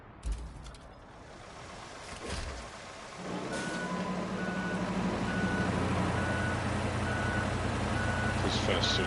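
Steady reversing beeps from a truck backing up in Roadcraft, evenly spaced over a loud engine rumble, with a voice talking at the start.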